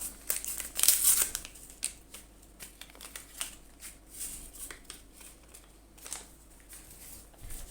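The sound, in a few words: vanilla sugar sachet being opened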